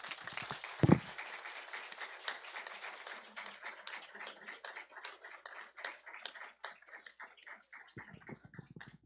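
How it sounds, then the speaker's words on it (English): Applause rises from the audience at a technical meeting on the Quadrilátero Ferrífero project, a dense patter of clapping that carries on steadily for several seconds before thinning toward the end, with no one talking over it. "They deserve a big round of applause."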